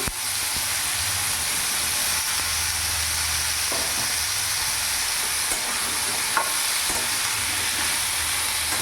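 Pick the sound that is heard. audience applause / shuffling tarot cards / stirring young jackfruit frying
stirring young jackfruit frying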